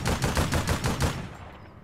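Rapid burst of shotgun fire in the APB Reloaded police game, about five loud close blasts in quick rhythm before fading into a short tail, no talking.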